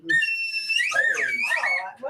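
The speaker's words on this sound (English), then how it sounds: "I'll give a guy the whistle now" A whistle gives a couple of short sharp toots, the second blast wavering and mixed with a voice, loud and close.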